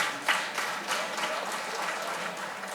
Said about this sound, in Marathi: सर्वांनी टाळ्या वाजवून भाऊंचं स्वागत करावं